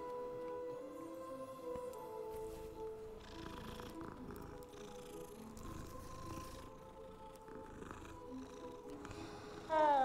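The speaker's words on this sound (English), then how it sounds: "Kitties." Cats in Hogwarts Legacy purr softly and continuously, a low fluttering rumble under quiet game music, with a sharp sound cue at the very end.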